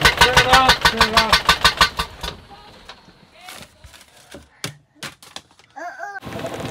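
A damaged car engine cranks with rapid rhythmic starter bursts, then runs rough and uneven with knocks and sputters; people talk over it near the end.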